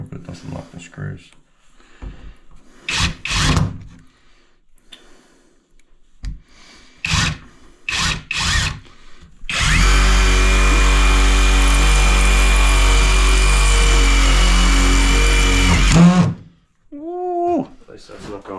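Power drill running screws into thick steel framing while resheeting, a long loud steady whine lasting about seven seconds, preceded by voices talking in bursts and followed by more talk.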